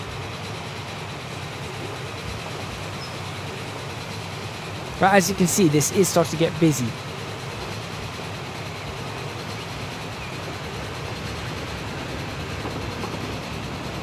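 Simulated train rolling on rails in Transport Fever, a steady low rumble running throughout, with a short burst of sharper clattering and rapid rhythmic clicks partway through; someone talks over it.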